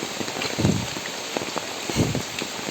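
Steady rain patters on a surface in a village area of Sonagazi, Feni, Bangladesh, a continuous hiss with occasional louder drops, close by and without voices.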